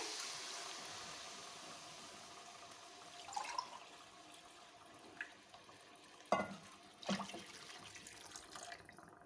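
Two cups of water poured into a dum aloo potato curry: a soft, steady watery rush with a few splashes and clinks near the end, quiet and close, with no talk.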